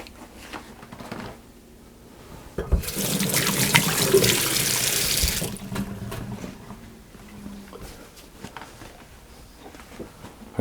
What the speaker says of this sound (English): And having washed my hands